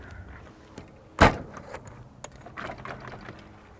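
An old junkyard truck door is worked by hand, with one sharp metallic clunk up close followed by lighter creaks, rattles and scrapes of the worn hinges and latch.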